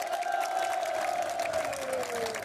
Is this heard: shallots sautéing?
no